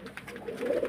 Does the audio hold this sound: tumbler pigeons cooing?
yes